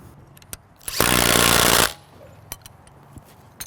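A power drill drives screws during an install, one sustained whirring burst of about a second at close range, with brief tool clicks and knocks before and after.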